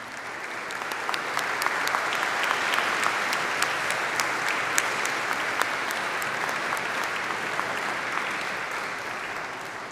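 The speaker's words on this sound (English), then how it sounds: "I'd like the faculty and staff to stand so we can give them an applause." Applause at a college commencement ceremony for faculty and staff standing, a sustained, even wash of many hands clapping from a large crowd, with a few sharper claps standing out.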